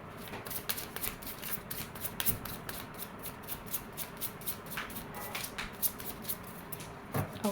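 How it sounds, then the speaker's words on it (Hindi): Tarot cards shuffled by hand in a steady run of crisp riffling flicks and snaps, close and fairly quiet, with no talking. "My last shuffle."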